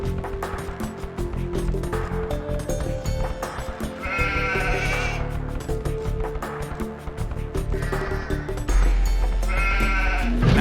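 Sheep bleat in the Age of Empires II game, several calls rising over continuous game music and sound effects at a steady moderate level.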